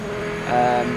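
Viper GTS-R race car engine in the racing game Project Motor Racing, a steady harmonic drone that swells briefly as revs climb, then settles again, close and fairly loud with no talk.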